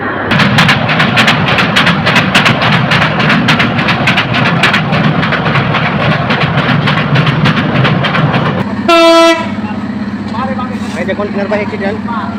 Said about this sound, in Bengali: কিশোরগঞ্জ এক্সপ্রেস ট্রেনটি এখন নরসুন্দি রেল স্টেশনে এসে যাত্রা যাত্রাবিরতি দিয়েছে